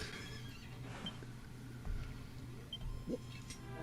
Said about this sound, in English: With very realistic horse making sounds.